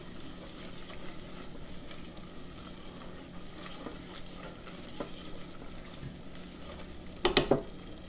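Flour being stirred into butter, garlic and onion in a hot pan, a steady low sizzle with soft scraping strokes throughout and a brief louder clatter of the utensil near the end.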